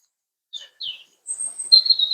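Birds chirp outdoors on a spring morning, a few short, high tweets followed by a longer, clear whistled call, close and distinct with no talk.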